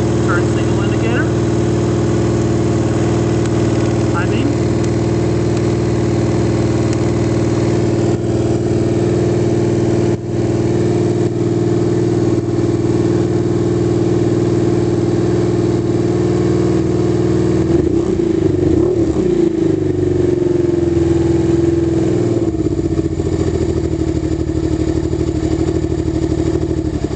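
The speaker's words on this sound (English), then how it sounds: "after just 40 seconds of running with the choke on there, even with it being as cool as it is today, the bike's idling nicely" A Honda Hawk GT motorcycle engine idles steadily on cold choke with a constant low drone, followed by a brief rise and settle in engine note.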